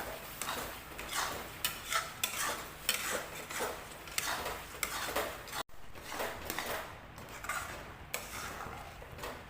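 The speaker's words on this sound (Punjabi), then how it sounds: "ਹੁਣ ਆਪਾਂ ਨੇ ਥੋੜਾ ਤੇਜ਼ੀ ਨਾਲ ਹਲਾਵਾਂਗੇ ਕਿਉਂਕਿ ਆਪਣੀ ਜਿਹੜੀ ਚੀਨੀ ਆ ਉਹ ਨੀਚੇ ਜਲਣੀ ਸ਼ੁਰੂ ਹੋ ਜੂਗੀ" Mango chutney is stirred quickly in a pan, a spoon scraping and clattering against the metal in rapid repeated strokes over a faint sizzle, with no voices.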